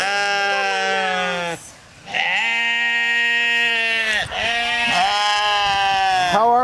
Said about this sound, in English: Hello, my sheep. You all came over to say hi.